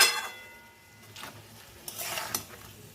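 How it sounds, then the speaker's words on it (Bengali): Chopped onion, garlic, ginger, green chili and tomato are stirred in a pan with a little oil for a chicken dish, giving scraping and clattering utensil sounds over a faint, low sizzle. "আর এই কাটা পেঁয়াজ রসুন আদা আর কাঁচা লঙ্কা টমেটোটা দিয়ে দিলাম, দিয়ে এটাকে আমি ভালো করে কষবো।"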